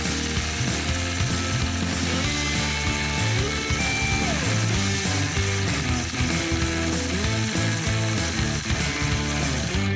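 A sewing machine runs continuously during free-motion stipple quilting, making a steady, close mechanical chatter of rapid stitching with a dense rhythmic clatter throughout and no talk.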